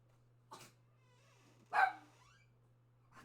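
A dog lets out three short barks indoors, well spaced, with the middle one loudest and the others softer, over a faint steady electrical hum.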